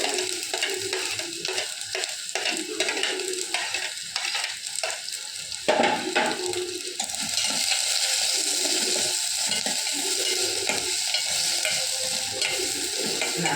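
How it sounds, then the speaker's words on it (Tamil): Sliced onions frying in oil in a pan and being stirred until they brown, a close crackling sizzle punctuated by irregular utensil scrapes and clicks, growing steadier and more hissy in the second half, with no speech. "நல்ல நிறம் வர வரைக்கும் வெங்காயத்தை வதக்கணும்"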